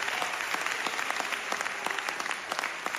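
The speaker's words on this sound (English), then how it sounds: "Let's give him the long round of applause." Steady applause from a studio or podcast audience, dense and continuous clapping at even loudness throughout, with no voices over it.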